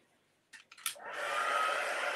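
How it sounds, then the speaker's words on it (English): Blowing on Stamperia crystal resin, a hair dryer clicks a few times and then switches on into a steady, close, breathy whoosh. "so using the dryer, you will have to move and create effect"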